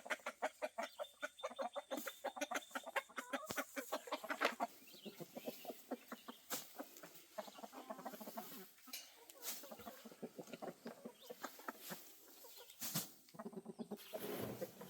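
Chickens cluck steadily and busily nearby in rapid, overlapping bursts, with a few sharper squawks mixed in and no talking.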